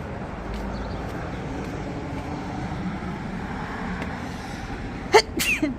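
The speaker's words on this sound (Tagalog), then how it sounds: "nabahing pa ang lola" Over a steady low drone, a single sudden sneeze from an elderly woman bursts out near the end, close and sharp, followed by a brief breathy sound.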